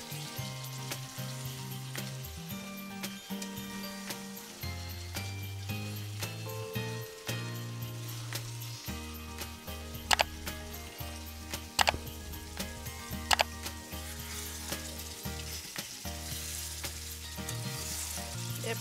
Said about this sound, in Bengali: মাংসটা কিন্তু ভালোভাবে কষিয়ে নিতে হবে। দেখুন আমি কিভাবে কষিয়ে নিচ্ছি।